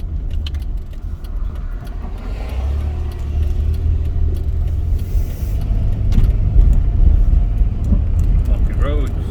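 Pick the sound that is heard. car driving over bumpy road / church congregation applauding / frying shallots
car driving over bumpy road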